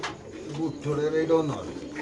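A booted racer pigeon coos nearby with a deep, rolling, throaty call that swells and fades over a couple of seconds.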